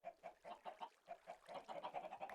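Minecraft chickens cluck in quick repeated bursts, a steady series of short clucks heard close and fairly quiet with no talking.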